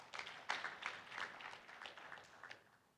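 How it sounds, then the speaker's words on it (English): Applause at a national tuberculosis and leprosy stakeholders conference, a crowd clapping steadily for the organizers at moderate distance, with scattered individual claps standing out over three seconds. "Please, let's clap for them."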